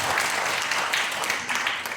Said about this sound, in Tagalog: At isa pang malakas sa palakpak sa ating Panginoon.